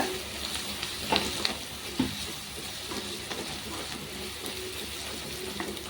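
Onions sautéing with salt in a pan for a peanut and yam kurma, a soft steady sizzle with a few light stirring knocks, fairly quiet and close.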